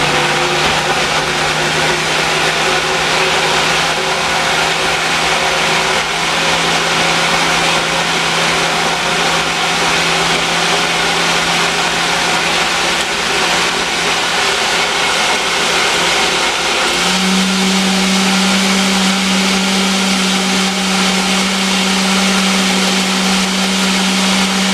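A blender whirs loudly and continuously while blending a mixed berry smoothie on its mix setting. The motor tone shifts and settles into a steadier, higher hum toward the end.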